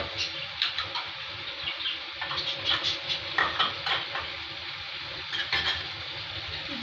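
Cabbage, sliced onion and capsicum are stirred and fried in a pan, giving a steady sizzle with repeated scraping clinks of a spoon against the metal, close and fairly loud, with no talk.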